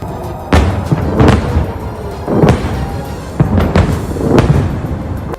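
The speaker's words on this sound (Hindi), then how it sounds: "रॉकेटों के फटने से आसमान में ऐसे धमाके हुए जैसे दिवाली के पटाखे फूट रहे हों" A series of sharp booming bursts from rockets exploding in the sky, irregularly spaced and echoing, like distant blasts going off one after another in open air.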